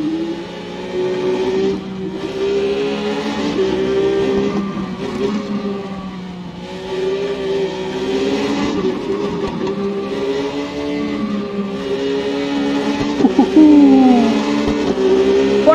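A Street Triple motorcycle engine in a track racing video game, revving loud and continuous and rising and falling through gear changes with no pauses.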